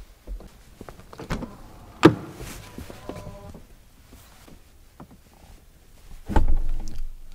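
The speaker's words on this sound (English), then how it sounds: "Soft closing doors." Rear doors of a 2020 Mercedes-Maybach GLS 600 pull shut under soft-close, giving a single firm thunk, a soft motorised whir and later another muffled closing sound, heard close with faint handling noises and no talk.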